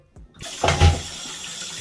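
A bathroom tap is turned on after a short quiet moment and runs steadily, with water splashing loudly at first and then settling into an even flow.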